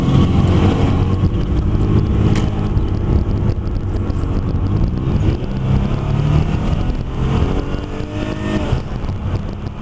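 High-mileage Chrysler car with a 2.7-liter six-cylinder engine, 150,000 miles, accelerating on a road test drive after repairs; loud engine drone rising and falling in pitch with wind rush, heard close from inside the car.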